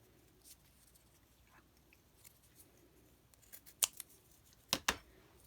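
Scissors cut through a folded paper roll with two or three quick, sharp snips in an otherwise quiet room.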